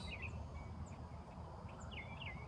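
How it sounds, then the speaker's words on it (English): Birds chirp in short, scattered calls against a faint, quiet outdoor background, with no one speaking. "Listen to the sounds of the birds."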